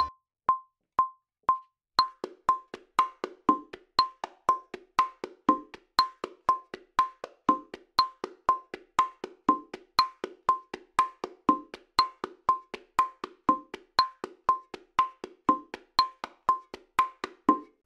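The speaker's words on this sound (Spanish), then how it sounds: "Ahora veremos el patrón del bongo que se usa en la parte de la estrofa." Salsa bongo verse pattern played steadily and alone: a regular run of crisp, close hand strikes mixing sharp high slaps with rounder open tones, the pulse continuing evenly throughout.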